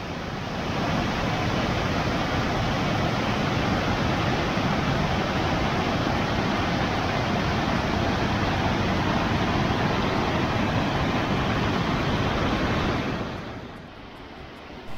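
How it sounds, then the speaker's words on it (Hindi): A tall waterfall in the Pangi valley sprays water blown wide by the wind, a loud, steady roaring rush that carries on unbroken before dropping away near the end. "ये झरना इतनी ऊपर से बह रहा है कि हवा से इसका पानी उड़कर दूर तक"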